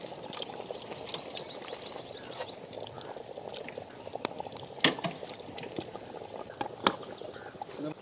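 Fish curry masala cooked in village style simmers in a pot with a steady bubbling, liquid churn, broken by occasional sharper clinks and splashes, close and moderately loud without talk.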